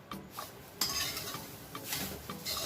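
Semolina and coconut roasting in a pan over a low flame, a spoon scraping and stirring against the metal in repeated strokes with faint clinks, close and moderately quiet with no voices.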